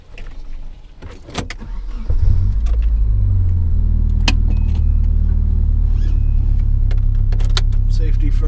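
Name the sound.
Nissan 240SX car driving on its first ride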